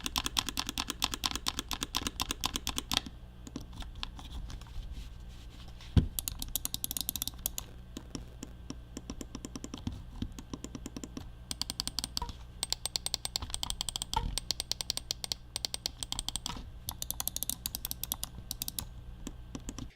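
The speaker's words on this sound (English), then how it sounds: "Moving on to the buttons, here's a listen on the click sound." Rapid, crisp clicking from the buttons of a Cougar gaming mouse repeats densely for about twenty seconds, close and fairly loud, with one brief pause early on and no talking.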